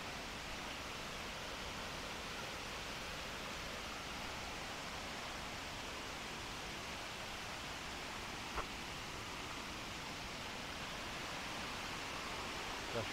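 Steady, broadband rush of the Paraíso do Cerrado waterfall in Damianópolis, Goiás, a constant roar filling the whole stretch with one brief faint click partway through and no talk.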